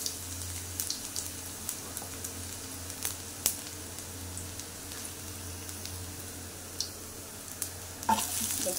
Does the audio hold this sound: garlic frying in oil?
yes